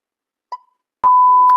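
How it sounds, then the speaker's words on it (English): A single steady electronic beep from a mobile video editing app's transition effects, clean and loud after a short click, holding one pure tone to the end with faint background sounds. "you might have seen this beep."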